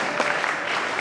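An audience claps steadily at a mushaira, an Urdu poetry gathering in Malegaon, giving a continuous even wash of applause that stays moderately loud and unbroken throughout.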